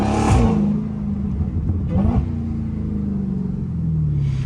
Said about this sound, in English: The downshift sound better though.